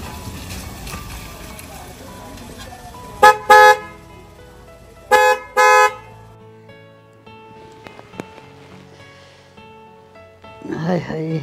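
A car horn sounds twice, close and loud: a short honk near the start, then a longer double blast a moment later, with faint voices and light room noise around them.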